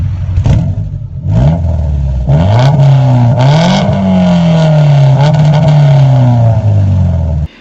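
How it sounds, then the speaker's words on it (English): A Honda Civic EG fitted with a custom WRX catback exhaust revs loudly and close up, its engine note sweeping up and down through several throttle blips and a sustained, steady rev. "I had a WRX catback that I got custom fit onto the car."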